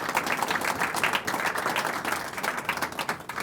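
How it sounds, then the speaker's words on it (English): An astronomy society's annual dinner audience gives a round of applause for volunteers, a steady, moderately distant patter of many hands clapping throughout. "So a round of applause for any volunteers that's here that's given you time."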